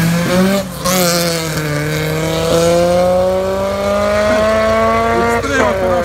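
Engines of cars in a drag race against a 400 hp Chevrolet Camaro, one Subaru Impreza among them, roaring loudly as they accelerate hard, pitch climbing steadily through a gear change.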